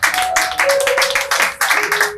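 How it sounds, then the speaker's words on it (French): An audience applauds at a live show: loud, close clapping in bursts with brief dips between them, and a steady tone runs underneath. "On applaudit encore, on applaudit."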